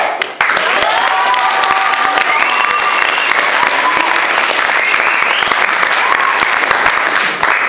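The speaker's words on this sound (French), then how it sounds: "je vous demande à tous, à toutes, à donner un applaudissement pour" A theatre audience claps and cheers for a stage hypnotist at a school arts show. Loud, dense applause fills the whole stretch, and a voice speaks over it.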